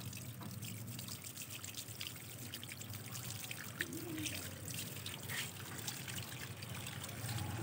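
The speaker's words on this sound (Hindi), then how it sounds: "इस तरीके से छिड़कते हुए हम इसमें पानी दे देंगे" Water is sprinkled onto soil in a flower pot holding jasmine or chrysanthemum cuttings, giving a soft, continuous patter and trickle that stays fairly faint and steady without speech.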